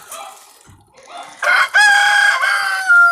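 A rooster crows loudly and close by among a flock of chickens and ducks, one long drawn-out call following a few softer clucks.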